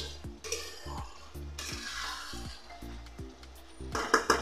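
Pointed gourd frying in spice paste in a pan, giving a continuous soft sizzle broken by regular scraping stirs roughly every half second, with a few sharper clinks of utensils near the end.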